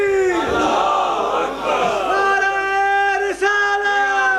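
A large mosque gathering at a majlis loudly chants salawat in unison, a sustained massed roar of voices rising and falling, close and dense with a brief dip near the end.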